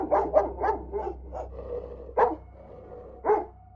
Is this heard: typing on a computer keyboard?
no